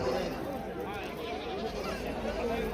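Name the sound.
goat bleating at livestock market, Osmanabadi breed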